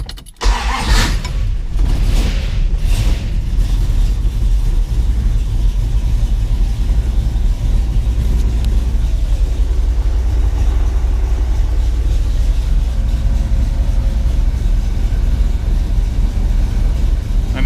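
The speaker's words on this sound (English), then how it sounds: "here's a cold start" A 1970 Dodge Dart Custom with a 340 V8 and a 4-speed cold-starts with a few cranking bursts, then catches into a loud, steady, rumbling idle that runs close and alone.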